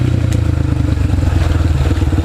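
A dirt bike engine revs hard in quick pulsing bursts as the rider pops the clutch for a wheelie, loud and close, with rattly clatter and no talk.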